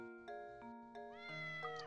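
A cat meows repeatedly in the Professor Layton DS game, a string of short, tonal, slightly bending mews, clear and close with no speech over them.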